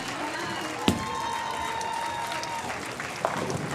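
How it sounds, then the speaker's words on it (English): At a boys' high school sectional bowling match, the crowd gives a standing ovation after a 299 game. Sustained applause and cheering fill the hall at a moderate distance, with a couple of sharper claps and some background voices. "He gets a standing ovation from the crowd."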